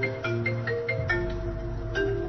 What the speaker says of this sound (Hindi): राणा ये तुम्हें क्यों फोन कर रहा है